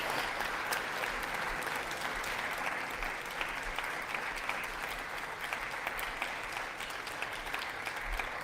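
A crowd at a political address gives sustained, thick applause that stays at an even loudness throughout. No distinct voices rise above the clapping.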